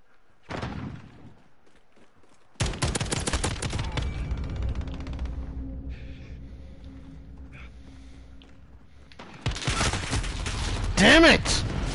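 Rifle fire in the video game Call of Duty Modern Warfare, set to semi-auto: a sharp volley early on, then a longer, denser run of rapid shots near the end, with game noise between.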